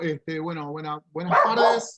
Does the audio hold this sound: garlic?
no